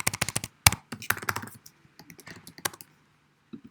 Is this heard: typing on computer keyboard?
yes